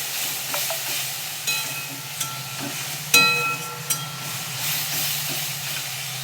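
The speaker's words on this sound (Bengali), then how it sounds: "জলটাকে দিয়ে আমি একটু ভালো করে কষাবো।" Spice paste loosened with a little water sizzles in a pan for a rohu fish curry. A spoon scrapes and stirs through a continuous hiss, with a few sharp clinks against the pan.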